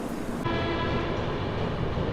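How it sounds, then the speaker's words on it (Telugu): A train at Eluru station's platform gives a steady low rumble and mechanical hum, close by, lasting only a couple of seconds. "ట్రైన్ వచ్చేసి ఏలూరుకి ప్లాట్ఫామ్ 3కి అయితే వచ్చింది"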